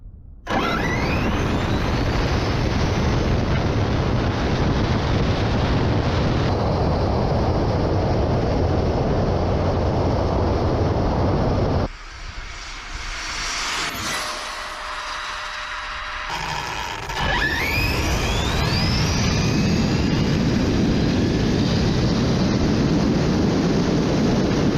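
A BIGROCK large-scale RC monster truck makes a top-speed run in cold weather, its loud motor whine rising and sweeping in pitch, easing off briefly midway before surging again as it races past.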